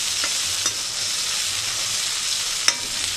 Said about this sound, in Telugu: మొత్తం ఈ టొమాటోస్ కూడా ఫ్రై అయ్యేదాకా వెయిట్ చేద్దాం.